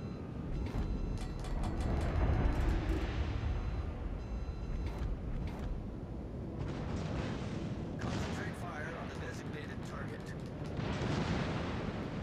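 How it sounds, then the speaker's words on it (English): Warship guns boom repeatedly in a World of Warships: Legends naval battle, with the Texas in play; deep heavy blasts and rumble fill the whole stretch, with sharper crackling bursts around the middle and later, while voices talk over the action. "Concentrate fire on the enemy warship."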